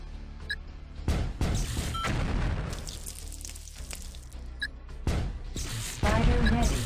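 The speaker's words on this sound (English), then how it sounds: "Vehicle destroyed." Vehicles blowing up in the strategy game Outpost 2 during a colony raid, several heavy booming blasts and crashes erupting in bursts one after another, loud and close, with a synthetic announcer voice between them.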